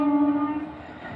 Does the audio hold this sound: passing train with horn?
yes